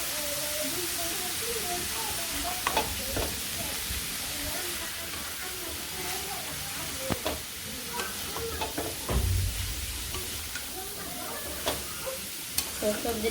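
Vegetables fry in a pan with turmeric powder, a steady sizzle and hiss broken by occasional scrapes and taps of a spoon stirring against the pan, moderately loud and close.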